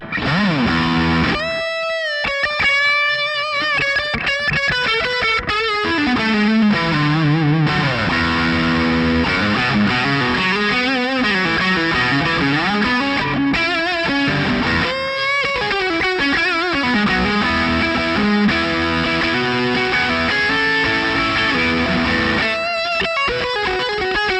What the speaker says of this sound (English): I'm going to put on a little bit of slapback delay like this